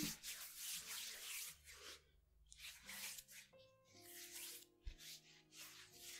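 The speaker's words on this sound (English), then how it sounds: "Put a little bit on my hands. Alright. And I rub it in." Hands rubbing waterless gel hand sanitizer together, soft close swishing strokes in several bursts with brief pauses, quiet and intimate.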